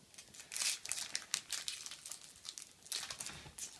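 A Pokemon TCG XY Flashfire booster pack wrapper is torn and crinkled open up close, giving a run of bright, irregular foil crackles and rips across several seconds, with no talking.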